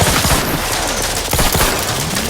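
Dense, rapid gunfire from The Outer Worlds 2 video game, with overlapping shots and bursts crackling loudly and continuously throughout a short firefight.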